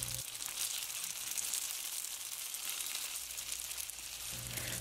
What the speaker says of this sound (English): put the boiled dumplings in the pan